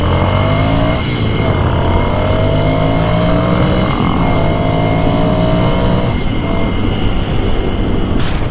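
Harley-Davidson motorcycles cruise on a highway near Jeddah, giving a loud continuous engine drone with wind rush and a few rising revs as the bikes shift and pass close by.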